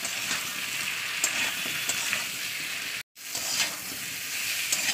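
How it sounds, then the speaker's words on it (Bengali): Plantains seasoned with salt and turmeric fry in oil while being stirred, giving a continuous moderate sizzle with a brief dropout partway through. "চলুন এটাকে ভালো করে তেলের সঙ্গে কষিয়ে নেবো।"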